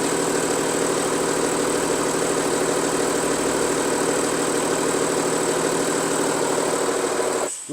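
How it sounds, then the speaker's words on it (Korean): German diesel car engine with a worn flywheel, 220,000 km, idling steadily at a loud, close range with a constant low rumble and rattle, then abruptly cutting off at the end. "PD님 제가 한번 시동 걸 테니까 한번 들어보세요"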